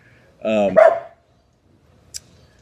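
A dog barks a couple of times at close range indoors, the barks running together in a short burst, followed by a faint brief yip and then quiet.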